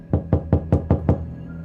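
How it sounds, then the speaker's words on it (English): Six sharp, evenly spaced knocks on a door, loud and close, with a resonant thud to each rap and no voices. "I finally arrive and knock on the door."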